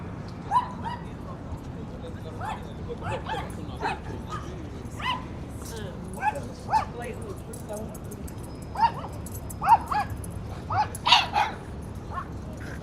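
Small dogs on 5th Avenue in New York City giving repeated short yips, barks and whimpers at irregular intervals, fairly close over a low street background hum.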